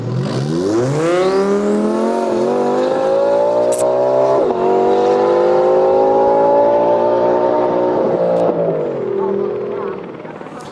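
A supercar at a shoot-out speed event screams past at high speed, a long sustained engine whine rising in pitch and holding loud before easing off as power is cut near the end.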